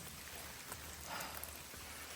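Light rain falls on the Appalachian Trail, pattering softly and steadily under a leafy tunnel. It is a faint, even hiss of drops with no voices.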